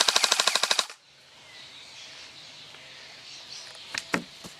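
An SRC M4 SR4 airsoft AEG on a 7.4V battery fires a rapid burst of about nine evenly spaced mechanical shots, close and loud, followed by quiet room tone and a few faint clicks and handling knocks.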